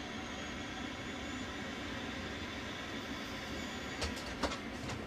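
Trains rumbling at a railroad terminal in a video game, a continuous low mechanical drone with a faint high whine and a couple of brief clanks near the end.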